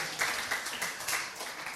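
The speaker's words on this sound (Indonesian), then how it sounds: "tepuk tangan dulu bagi Tuhan kita" Church congregation clapping during a Sunday worship service, a steady dense patter of many hands filling the room without pause for the short stretch.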